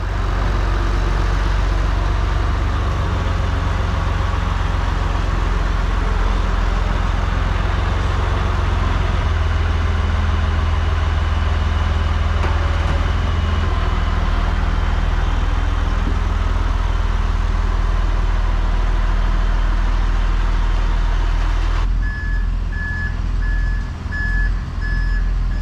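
A farm tractor engine idles with a deep steady rumble, loud and close, then reversing beeps start up in a regular pulse near the end.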